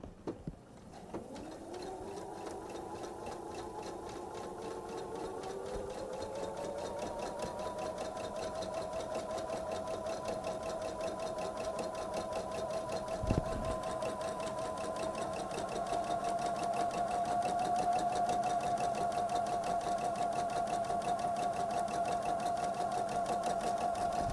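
A sewing machine runs with a steady standard stitch through quilt half square triangle pieces. Its whirring hum holds for over twenty seconds, close and continuous, with one brief thump partway through.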